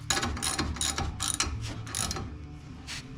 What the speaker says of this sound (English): No, you'll have to get a wrench on it.